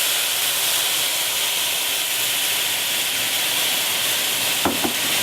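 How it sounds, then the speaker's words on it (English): Red wine hits cooked shallots in a hot pan, setting off a steady, loud hiss and sizzle of steam, with two brief clunks of cookware near the end. "We're just going to deglaze with a little bit of red wine"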